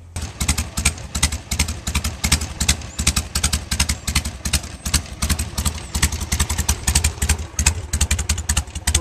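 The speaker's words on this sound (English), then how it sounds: "The bike will idle as slow as 350 RPM." A Harley-Davidson 883 Sportster V-twin idles slowly and smoothly, around 350 RPM after balancing, with a steady lumpy thump and light mechanical clatter, close and continuous with no talk.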